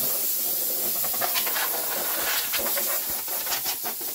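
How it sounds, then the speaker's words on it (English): Compressed air blows off a panel before 2K paint spraying at home, a close, steady hiss with short stuttering pulses as the air gun is worked, no speech over it. "final job, one final blow off"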